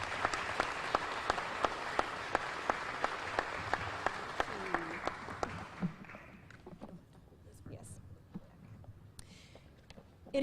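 An audience at a memorial garden ceremony honoring fallen U.S. service members applauds to welcome a speaker. The dense, steady clapping of a sizable crowd lasts about six seconds, then fades to scattered claps and quiet room noise.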